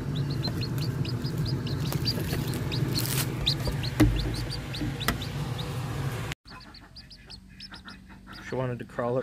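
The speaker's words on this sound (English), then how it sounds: "Is that a little baby chick?" Baby chick peeping in a barnyard setting among other clucking fowl, rapid repeated high chirps over a noisy background, then softer close peeps after a cut, with people talking.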